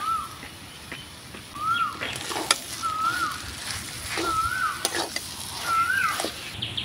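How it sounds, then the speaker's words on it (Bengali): Spiced potato frying in a pan with cumin powder and garam masala, a steady sizzle broken by scraping stirs of a spatula, while a repeated chirping bird call sounds in the background. "জিরের গুঁড়ো আর গরম মশলার গুঁড়ো দিয়ে আমি ভালো করে কষিয়ে নিব আলুটাকে"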